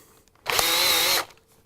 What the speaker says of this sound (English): I can actually take a drill here, see if I can get it in here, tighten it up at the same time.